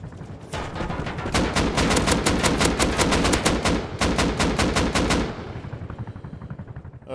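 Rapid automatic gunfire from the survival video game Rust, loud and sustained in long bursts of sharp cracks for several seconds, then tapering off near the end with no one talking.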